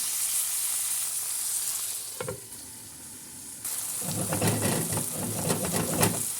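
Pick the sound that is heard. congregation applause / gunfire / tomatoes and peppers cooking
tomatoes and peppers cooking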